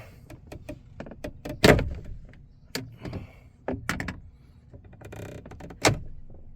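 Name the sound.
pulling the door handle of a 2020 Chevrolet Colorado, click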